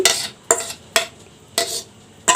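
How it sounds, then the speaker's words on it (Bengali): A spatula sweeps khoya kheer around a wok in five distinct scraping strokes, each a short bright rasp about half a second apart, close and clear with a faint sizzle between. "এটা কিছুক্ষণ নাড়বো"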